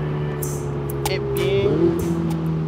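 A Ferrari 488 Spider's mid-engine exhaust hums steadily from inside the cabin in a low drone, briefly swelling as it revs, under faint background noise.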